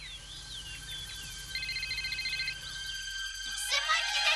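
A telephone rings in a house in Texas, with repeated electronic trilling bursts in a steady pattern that grows slightly louder toward the end, heard alone without talk.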